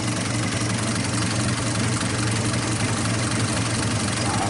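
An old car engine from a 1951 Studebaker or 1948 Nash idles low around 400 RPM with a slight sputter, a close, steady rumbling drone with no pauses.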